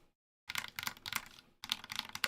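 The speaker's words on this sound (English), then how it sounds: "Yeah, that is a solid sounding keyboard." Close, crisp clatter from typing on a hot-swap Ducky One 2 Mini keyboard fitted with new switches, two quick bursts of rapid keystrokes separated by a short pause.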